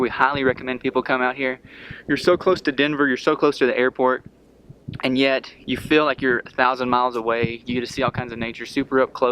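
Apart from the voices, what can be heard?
No everyday noises stand out.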